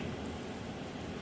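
Steady rain hisses continuously in Jamaica, a dense even wash of falling water with no other sounds.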